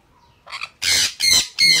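Pet birds squawking loudly: a softer call, then three loud, harsh squawks in quick succession, close by with no talking.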